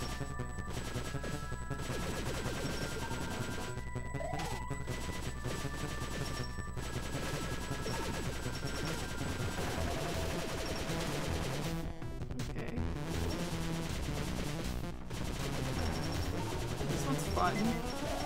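Shooting in the Cave Story+ game on Switch: rapid bursts of gunfire and small impact blasts over a busy game soundtrack with tonal beeps, continuous and fairly loud.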